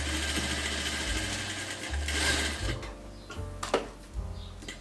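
A sewing machine stitches a pantalona trouser in short runs, its motor whirring and ticking in a few stop-start bursts with brief pauses between them, close and fairly quiet.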